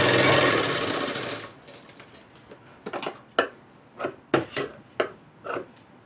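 A sewing machine whirs in a steady continuous run while stitching a blouse collar neck, then stops, followed by scattered close clicks and handling taps as the fabric is adjusted; no speech.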